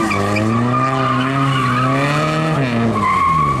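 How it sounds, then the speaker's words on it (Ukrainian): A race car skids around an autoslalom course in Lviv at the Lion Cup 2015 first stage, its engine note and squealing tires held loud and continuous for several seconds, shifting pitch near the end. "Зараз на трасі рейсер Іван."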